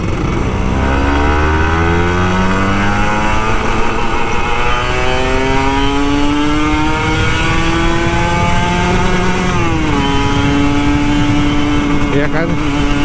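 A Kawasaki Ninja RR 150 two-stroke motorcycle engine revs loudly and up close, rising through several climbing pitch sweeps with a brief dip before climbing again.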